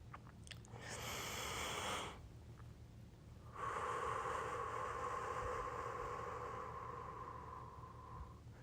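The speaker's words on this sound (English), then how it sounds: "We're going to take 3 deep breaths, inhaling through the nose and exhaling through the mouth" A person takes deep breaths during a guided breathing exercise, drawing a long inhale in through the nose and then letting out a longer, steady exhale through the mouth, close and alone with no talking.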